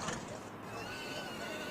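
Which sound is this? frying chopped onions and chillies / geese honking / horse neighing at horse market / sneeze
horse neighing at horse market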